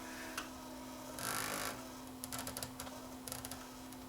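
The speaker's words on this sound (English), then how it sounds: "I can hear the tape take up little slip clutches making some noise." Faint, quiet mechanical ticking and brief scraping clicks over a steady hum, irregular little bursts from the take-up slip clutch slipping inside a JVC KD-V300 cassette deck.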